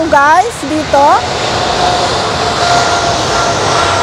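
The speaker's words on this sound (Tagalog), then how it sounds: "Quiet muna kasi may aeroplano." Airplane passing overhead above a residential vegetable garden, a steady broad roar filling the background at moderate distance after brief speech at the start.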